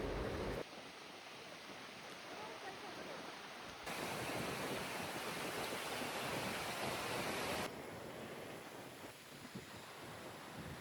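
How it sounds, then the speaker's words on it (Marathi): Ocean waves break and wash up a beach on the Konkan coast, a steady, loud, broadband rush with surging swells and no voices. "पाण्याचा आवाज ॲक्च्युली मला काम डाऊन करतो आणि हे वेव्स जे आपल्या पायांना हिट होतात"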